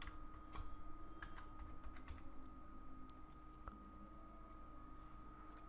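Quiet, close keystrokes tap out a short code on a computer keyboard, irregular clicks scattered over a few seconds against a steady low room hum.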